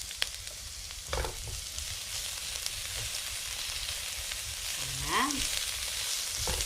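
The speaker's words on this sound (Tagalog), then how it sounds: "Igisa na natin ang ating bawang." Garlic and onion sauté in a hot pan with a steady, soft sizzle throughout, joined by a brief stirring clatter and a short spoken word near the end.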